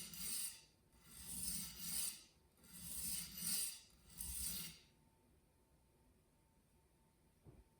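A KAI Santoku knife of VG10 steel is drawn across a waterstone in about seven rhythmic rasping strokes, close and fairly soft, followed by quiet.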